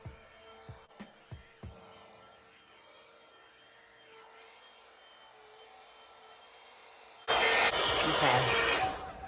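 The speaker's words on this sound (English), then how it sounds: "I'm just going to use my little blush blow dryer to blow it" A small blush-colored blow dryer blowing out braided hair after heat protectant, a steady loud broadband whoosh that kicks in abruptly near the end after a few soft clicks and quiet handling.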